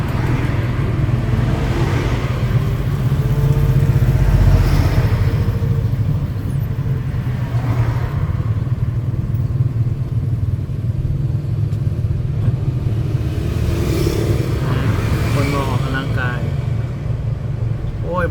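Traffic backed up at a red light, a dense steady rumble of idling cars and motorcycles close by, with a voice talking over the engine noise throughout.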